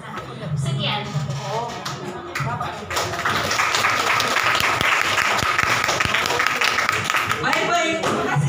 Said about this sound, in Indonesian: boleh tepuk tangan untuk Aisyah